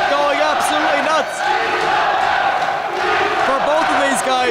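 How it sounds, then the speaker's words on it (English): A wrestling crowd at the SFX roars wildly during an Irish Whip Wrestling international heavyweight bout, a dense, sustained close wall of cheering and yelling with a commentator's voice running over it. "this crowd absolutely crazy, going absolutely nuts"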